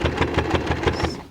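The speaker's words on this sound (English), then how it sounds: "So I'm gonna hold my machine there and start with the back stitch and sew to the edge of the fabric." A sewing machine back-stitching toward the edge of recycled denim runs in a steady, close mechanical chatter, with quick even pulses throughout a short burst and no one talking.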